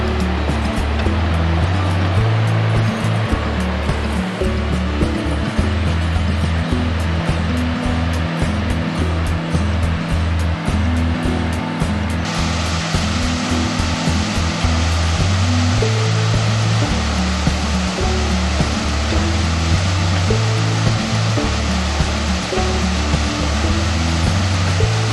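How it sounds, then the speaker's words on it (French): A constant heavy roar of an Armidale waterfall in Australia, dense and unbroken throughout, loud and close. "Les grandioses cascades d'Armidale."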